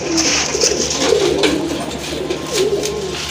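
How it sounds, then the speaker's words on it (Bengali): Racer army pigeons coo close by in repeated soft, throaty rolls, several overlapping calls with short breaks between them. "এটা রেসার পিজন আর্মি কবুতর"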